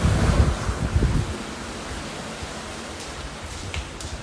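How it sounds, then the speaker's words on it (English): Heavy rain pours outdoors during a thunderstorm with lightning. A steady, loud broadband hiss is joined by a deeper rumbling swell in the first second or so, then the rain continues alone, with no talking. "It's pouring and it's lightning, it's thundering"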